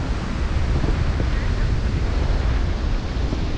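Steady wind and surf roar at Patnem beach in Goa, a dense, continuous wash of waves and wind buffeting the microphone, loud and unbroken with no clear individual breakers.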